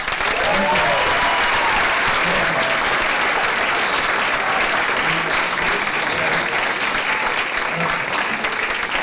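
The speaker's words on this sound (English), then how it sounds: "Another round of applause." An audience at a Hispanic Scholarship Alliance event applauds continuously, a dense and loud wash of clapping that holds steady throughout with faint voices mixed in.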